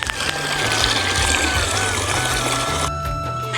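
Water gushes from a motor pump into a container for buffaloes, a steady splashing pour under a low running motor hum with some background music, fairly loud and close.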